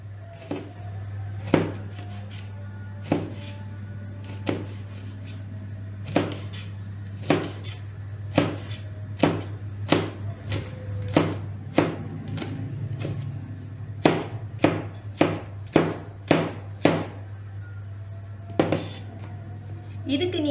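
Chillies are chopped on a cutting board for a sweet and sour egg dish: sharp, irregular knife knocks land roughly every second over a steady background hum.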